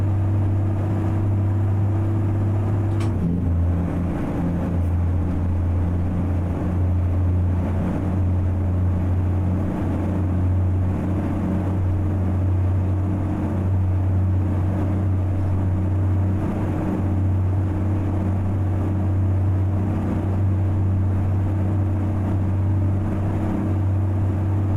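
A heavy truck engine in American Truck Simulator drones loudly and steadily throughout, its pitch shifting slightly near the start, with no talk over it.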